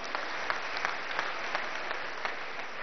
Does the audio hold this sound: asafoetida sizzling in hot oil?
no